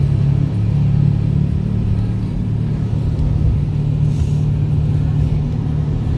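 Road traffic in Kuala Lumpur, Malaysia: a steady, loud low rumble of car and truck engines, heard as if from inside a vehicle, with faint voices now and then.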